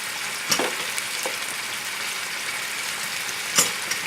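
Beef sears in a pot for a bean stew, giving a constant hissing sizzle with a couple of sharper spikes where the meat shifts or is turned.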